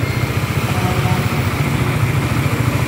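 Motorcycle engine idling steadily nearby with an even, rhythmic low putter and a continuous background hiss.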